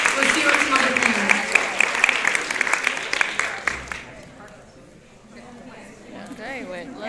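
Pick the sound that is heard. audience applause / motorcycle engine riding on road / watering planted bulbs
audience applause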